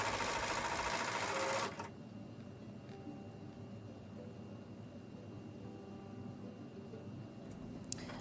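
A sewing machine stitches quilt squares in a chain, running loud and fast for under two seconds before it stops, leaving faint room sounds and light handling noises.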